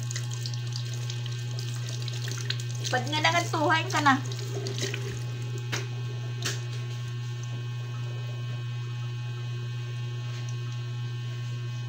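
Tap water runs into a drum in a steady, soft stream beneath a constant electrical hum, with a person speaking briefly partway through.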